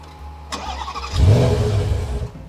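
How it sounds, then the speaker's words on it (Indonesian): A 2023 Bentley Continental GT V8 with 700 km on it starts up: a brief starter crank, then the engine catches with a deep, swelling rumble that settles into a steady, close idle. "Oke, kita start di engine."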